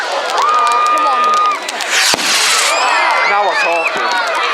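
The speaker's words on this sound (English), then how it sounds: "They go up in, normally they go bang." Fireworks at a Bonfire Night display at a cricket club go up and burst, with a sharp bang at about two seconds, over constant crowd noise, cheering and children shouting.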